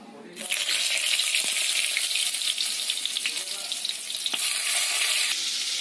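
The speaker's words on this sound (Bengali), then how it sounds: "তেল আমার গরম হয়ে গিয়েছে, এর মধ্যে দিয়ে দেবো কেটে রাখা পটলগুলো" Sliced pointed gourds dropped into hot mustard oil in a heated wok set off a sudden loud sizzle that keeps crackling and hissing steadily, with a brief rise partway through.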